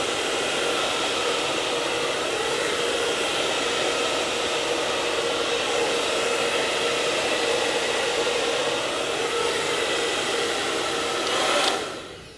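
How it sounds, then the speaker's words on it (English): A hair dryer blows with a steady, loud whooshing roar close by for the whole stretch, then cuts off at the very end. "you wanna use a hair dryer to kind of blow it back to the way that you're going"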